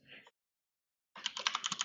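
A brief patter of keys, a silent gap, then a quick burst of rapid, close computer keyboard typing with sharp individual clicks.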